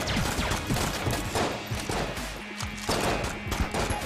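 Dense bursts of gunfire fill the bullet-hell video game Enter the Gungeon, rapid overlapping shots crackling continuously with a short pause near the middle before the barrage resumes; no talking.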